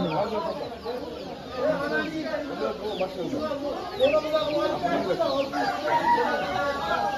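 Chickens at a poultry market, with Alpinton-breed birds among them, cluck and crow in a dense, continuous chorus that fills the space, roosters calling over the busy flock while voices murmur nearby.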